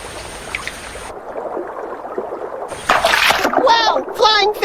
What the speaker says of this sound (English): The arowana fish bends its body and suddenly leaps out of the water like an uncoiling spring